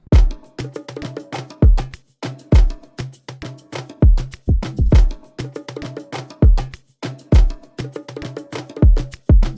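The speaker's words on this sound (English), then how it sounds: "So the drums all together sound like this." A drum loop plays a punchy kick with a percussion pattern, shaker and hi-hats, repeating in a tight, steady groove of deep thumps and crisp ticks, loud and alone.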